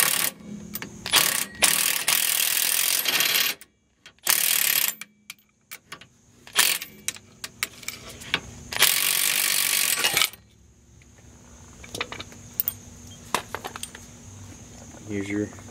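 Metallic ratcheting and clanking as a pry bar pushes a washer while a large bolt is loosened on the BC Racing coilover suspension of a 2004 Jaguar XJR; close, irregular bursts of clicks and clanks separated by brief quiet gaps.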